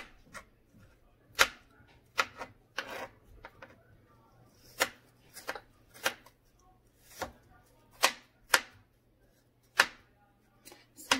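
Knife chopping strawberries on a board for homemade strawberry banana ice cream: a dozen or so sharp, close taps at an uneven pace, standing alone in a quiet room.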